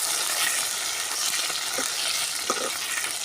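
Raw plantain with green chillies and curry leaves sautéing in a pan for a village-style dried fish curry, a steady close sizzle with a couple of soft stirring scrapes and no talk.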